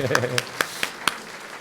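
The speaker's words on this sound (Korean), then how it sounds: "우리 박수로 환영하겠습니다" A Sunday morning church congregation gives a few sharp, evenly spaced hand claps in a quick, steady rhythm to welcome someone, fairly close, under a speaking voice.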